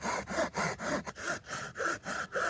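A knife trims a piece of wood in about eight quick, rhythmic rasping strokes, each a short scraping rub close by, with no talk.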